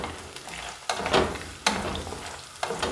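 Ginger and garlic sauté in a hot pan for Kung Pao chicken, a steady close sizzle broken by three sharp scraping stirs.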